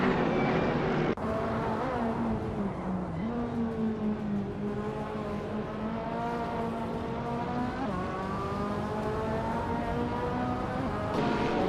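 Racing video game engine of a Mercedes AMG, a continuous loud drone with steady harmonic pitch that shifts slightly as the car holds speed, with brief gear-change dips near the start and end.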